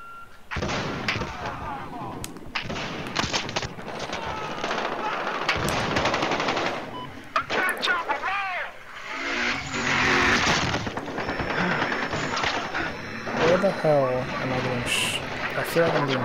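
Rapid automatic gunfire in the Battlefield Hardline beta played over PS Vita remote play, loud bursts stacked on engine rumble and game noise, with someone talking over the shooting.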